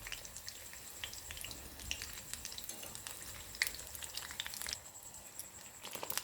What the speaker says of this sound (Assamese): মই পটলখিনি 2 পৰা 3 মিনিট টাইম ল' ফ্লেমত ফ্ৰাই কৰি ল'লোঁ